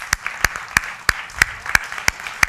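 A church congregation claps in unison, producing sharp, evenly spaced claps about three per second that repeat steadily over a soft background of scattered clapping.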